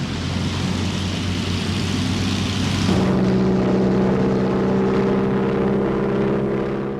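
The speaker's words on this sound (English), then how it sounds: "Two-seater scout aircraft were sent out by both sides to monitor enemy movements and positions." A two-seater WWI scout aeroplane with a propeller engine drones steadily overhead, a loud continuous roar that shifts to a lower, steadier pitch partway through as it keeps flying.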